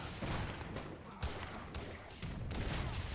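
Gatling guns firing in Age of Empires III, a dense, continuous rattle of rapid gunfire with bursts swelling and dipping, heard at a steady moderate level without talk.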